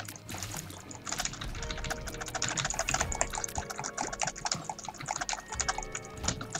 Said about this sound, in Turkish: Klavye spamlama.